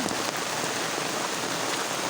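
Steady rain pours down close by in a farming area with rice paddies, a dense, continuous hiss with no gaps and no voices.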